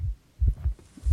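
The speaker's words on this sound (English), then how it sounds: "The heartbeat is what's annoying you?" Heartbeat sound effect from a Dead by Daylight-style survival horror game, deep low thumps in double beats, close and throbbing, repeating steadily with no voices over it.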